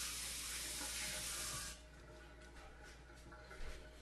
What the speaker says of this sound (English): Again, wash my hands here real quick.